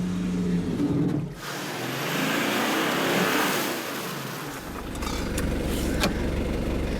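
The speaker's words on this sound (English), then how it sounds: "Terry's using his winch to see if we can pull it forward a bit" A 4WD's winch strains to pull a stuck vehicle forward through wet Cape York terrain, a mid-level mechanical whir with an engine drone beneath, easing off briefly near the middle before resuming, followed by a few sharp clicks near the end.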